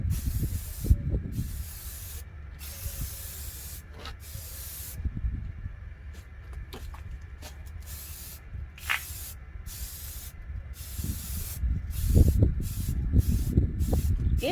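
Rust-Oleum 2-in-1 filler primer sprayed from an aerosol can onto G-body Cutlass door panels: repeated close hissing bursts separated by short pauses, with faint background noise in a garage.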